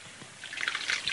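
Warm water is poured into a pan while cooking crab with tomato sauce, starting as light drips and building into a brighter, splashing trickle over about a second, close and fairly loud.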